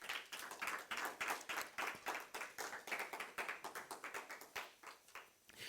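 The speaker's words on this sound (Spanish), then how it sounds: "Denle un fuerte aplauso al Señor" A church congregation claps in quick, rhythmic unison, a steady train of sharp handclaps running throughout with no talking over it.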